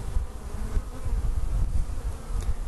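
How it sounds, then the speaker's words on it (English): Honey bees fly in and out of a hive entrance, making a continuous dense buzzing hum up close with no pauses. "Here, we've got bees coming and going through this hole."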